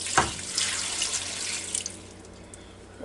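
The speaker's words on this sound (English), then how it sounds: "just pour it right down the middle like this" Liquid bouillon broth poured into a cooking pot for one-pot spaghetti and meatballs, a steady rushing splash with a brief sharper splash at the start, tapering off toward the end.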